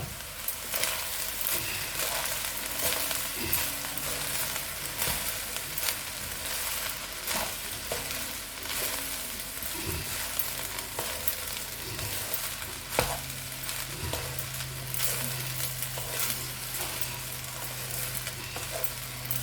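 Coconut kasundi rice is stirred in a hot pan, giving a steady close sizzle broken by frequent scraping clicks of the spoon, with a faint low hum joining near the end.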